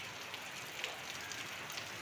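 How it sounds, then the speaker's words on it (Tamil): Heavy rain falls in Chennai during a storm, a dense continuous hiss of drops on surfaces, steady and moderately faint with no voices. "எல்லா ஊர்லேயும் மழை, பயங்கரமாக மழை."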